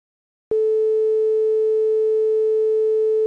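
After a short silence, a single steady electronic tone switches on and holds at an even pitch, clean and unwavering until the end.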